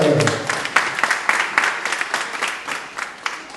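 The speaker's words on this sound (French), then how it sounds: "Excellence, Monsieur le Président Waly Faye, que je vous demande d'applaudir très très très fort." A crowd applauds with dense, rapid clapping that starts strong and gradually thins out and fades over a few seconds.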